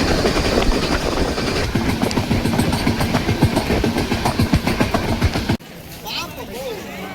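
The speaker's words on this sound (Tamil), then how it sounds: "இதுதாங்க சீரடியோட ரயில்வே ஸ்டேஷன் என்ட்ரன்ஸு" Train at Shirdi railway station, rolling past with a loud rumble and rhythmic clickety-clack of wheels over rail joints, then cutting abruptly to quieter station ambience; voices talk over it.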